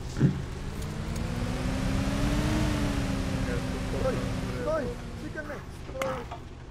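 A car drives off in the mobile battle-royale shooter PUBG Lite, its engine droning steadily as it pulls away, with a second vehicle-like hum and casual voices chatting over it throughout.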